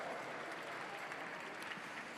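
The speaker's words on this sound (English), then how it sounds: "Give them a round of applause." Steady, dense applause from an audience at a gala, welcoming performers including a spoken word group, Olympians and seniors back onto the stage, sustained and even throughout with no talk over it.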